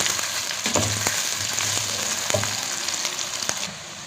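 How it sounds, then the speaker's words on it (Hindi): Garlic frying with onions in a pan while cooking sarson ka saag, a steady crackling sizzle with scraping and stirring clunks from a spoon at intervals, close and without speech, easing off near the end. "तो फिर अब इसमें मैं ऐड करूँगी लहसुन करूँगी तो हल्का सा इसमें पकाऊँगी।"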